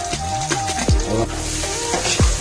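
Ginger paste sizzling as it hits tomatoes frying in oil with cumin in a pan, a steady loud crackle with a few scraping stirs, close up and without talk.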